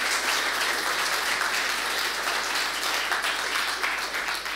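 Dense, continuous applause from the audience after a German-language tech talk on MongoDB time series, with many hands clapping at once in an even, close, sustained wash of sound.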